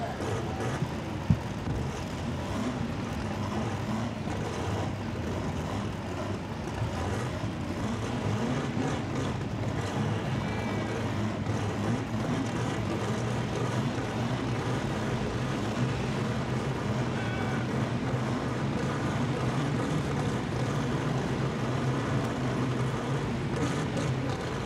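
Turbo rear-drive drag cars launch side by side in a semifinal at a drag strip, a steady loud engine roar running throughout with a brief sharp spike near the start.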